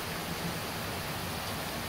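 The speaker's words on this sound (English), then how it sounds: "it is raining softly." Soft, steady rain hisses evenly with no breaks, a gentle continuous patter.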